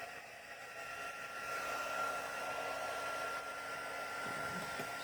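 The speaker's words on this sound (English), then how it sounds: "So I set my heat tool to number 2. This is the Stampin' Up heat tool" A Stampin' Up heat tool set to its second setting blows hot air in a steady, close whooshing rush that holds continuously throughout, with no voices over it.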